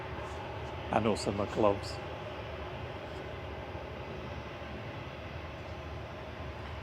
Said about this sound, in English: Lufthansa departed to Munich now, flight 2507, A321 Classic DAISD.